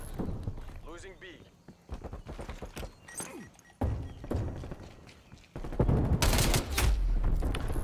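Gunfire and impact bursts from a Call of Duty Black Ops Cold War multiplayer match, sharp cracks and rapid volleys that grow louder and denser toward the end, mixed with game noise and a player talking.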